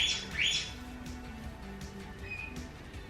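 Two new pet cockatiels give a few high chirps and short calls, brightest near the start, fairly close over a low indoor room hum.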